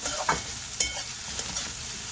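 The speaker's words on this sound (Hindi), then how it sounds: "बीच बीच में इसे चलाते रहें ताकि हमारे प्याज जो है नीचे से लगे ना।" Onions fry over a low flame in a pan for a Sindhi okra and onion curry. A steady, close sizzle runs throughout, with a few brief scrapes and clinks as the onions are stirred.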